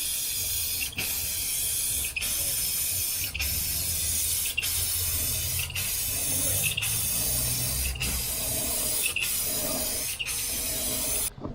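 Clear coat sprayed onto custom Dodge RAM tail lights as the third heavy coat, a steady close hiss running throughout, broken by brief regular pauses roughly every second.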